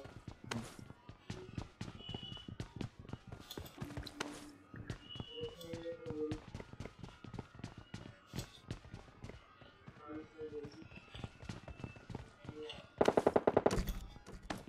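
Rapid automatic gunfire from a PUBG Mobile match, with scattered single shots and clicks throughout and a loud, sustained burst of fire near the end, plus footsteps and game effects.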